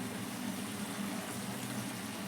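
Water poured into brinjal gojju while it cooks in the pan: a steady, close gushing and bubbling wash of liquid, even in loudness throughout with no talking.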